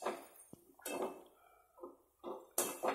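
Drumsticks being stirred through masala in a pan for a drumstick fry, giving a few separate scraping, clattering bursts of the spoon against the pan with quiet gaps between them, close by, no talking.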